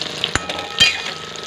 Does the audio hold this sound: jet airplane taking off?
no